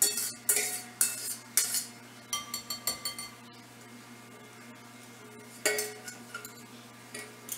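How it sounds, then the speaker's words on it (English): Beaten eggs going into a bowl while making a sausage and spinach quiche, heard as a few sharp clinks and taps of utensils against the bowl, then quieter scraping, close and clear with no talking. "We're going to add our beaten eggs."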